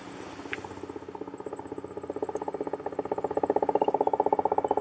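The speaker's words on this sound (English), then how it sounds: "helicopter guys, come and pick us up." A helicopter approaches to pick up hunters in the New Zealand backcountry after a feral goat hunt, its rotor thudding in a fast, steady pulse that grows gradually louder and nearer, heard alone without talk.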